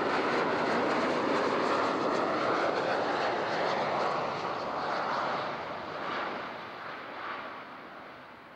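A jet airliner roars loudly past on runway 14 at Zurich airport, a broad sustained engine rumble that slowly fades as it moves away.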